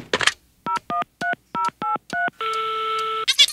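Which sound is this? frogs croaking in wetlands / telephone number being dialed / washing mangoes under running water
telephone number being dialed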